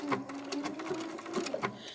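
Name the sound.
sewing machine stitching applique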